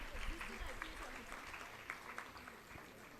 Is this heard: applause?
yes